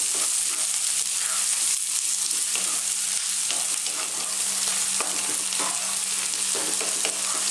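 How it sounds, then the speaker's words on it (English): Onions stir-frying on high heat for ginger garlic tofu fried rice, a dense, loud, continuous sizzle with frequent stirring scrapes throughout, close up and without speech. "2 more minutes on this high heat, stirring all the time"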